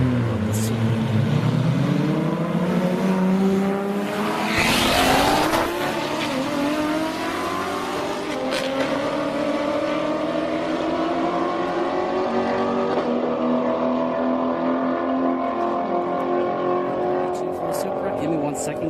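Toyota Supra or Corvette C7 drag racing at a strip, engines revving hard and roaring as the cars launch and pull away, with a loud burst mid-run and a commentator talking over the noise.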